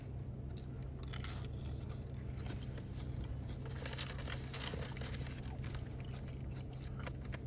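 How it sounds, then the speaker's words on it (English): Close crunching bites and chewing on crisp pizza crust topped with basil, tomatoes, sauce and cheese at Bleecker Street Pizza in New York, repeated crackly crunches over a low steady background hum. "nice crunch on the crust."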